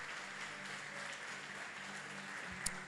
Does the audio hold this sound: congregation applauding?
yes